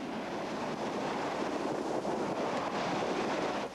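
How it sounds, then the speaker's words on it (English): Lava lake splashing and spattering at Kilauea volcano, a continuous, loud, broadband roar like surf or strong wind, steady and close with no voices. "The collection, expansion, and release of gases near the surface of the lava lake results in spectacular splashing and spattering."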